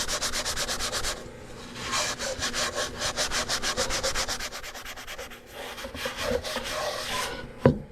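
Coarse salt scrubbed around the inside of a cast iron Dutch oven, rhythmic gritty rasping strokes in quick bursts, close up and alone, with a brief clunk near the end.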